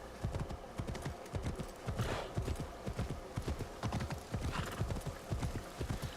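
Horse hooves clip-clop at a steady trotting rhythm in Assassin's Creed Shadows, the video game, loud and close, with a brief whinny mixed in.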